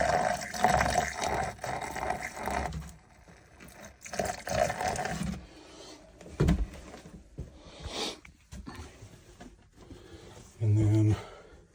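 Liquid is poured down a sink drain in a 2024 Keystone Passport 3300BK RV, gurgling and splashing in uneven bursts with a brief running-water stretch near the end, mixed with nearby handling noises.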